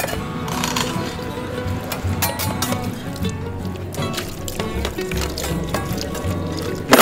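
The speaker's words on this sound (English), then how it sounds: "Sanitizing is as easy as boiling water and pouring over." Boiling water pours and splashes over dishes in a camping wash basin close by, with gurgling, sloshing and occasional clinks, continuous for several seconds.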